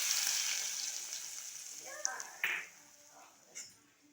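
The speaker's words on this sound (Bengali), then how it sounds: "তো গরম তেলটা এবার এখানে ঢেলে দেব।" Hot white oil is poured over a potato mixture and sizzles sharply, then fades, with a few clinks of utensils and a low voice in the background.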